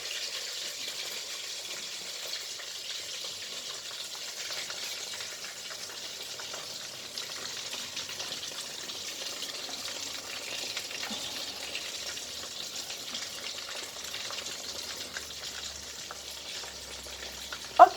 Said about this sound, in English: here comes the chicken.